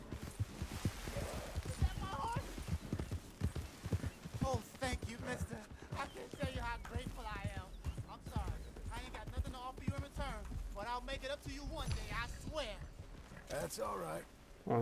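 Horse hooves clip-clop steadily through Red Dead Redemption 2 gameplay, a rhythmic run of hoofbeats heard under near-constant talking from a man.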